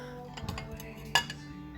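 Ceramic dinner plates in a GIFI homewares aisle clink together, a few soft knocks followed by one sharp bright clink, close and fairly quiet over faint store ambience.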